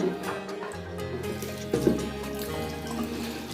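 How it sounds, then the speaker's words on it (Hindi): Water runs steadily from a tap into a bottle for watering plants, a continuous splashing flow with a brief louder gush midway, close and alone. "टैप का पानी यूज़ करूँगा मैं पानी देने के लिए अपने पौधों में।"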